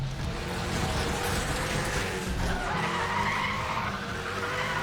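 Car tires skid and squeal under hard braking in the Need for Speed: The Run racing game, a loud, continuous screech with engine roar that holds steady for several seconds.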